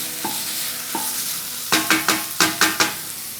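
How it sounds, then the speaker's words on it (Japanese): Onions stir-fry in a pan under a soft sizzle: two light taps come first, then a quick run of six sharp spatula scrapes against the pan, close and clear with no voices. "玉ねぎと合わせて炒めていきますか"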